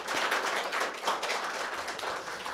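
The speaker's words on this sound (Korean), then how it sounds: "우리 박수로 다 환영하면서." Church congregation clapping to welcome an elder during a worship service, a brisk, continuous patter of many hands in a reverberant room, moderately loud and with no talking over it.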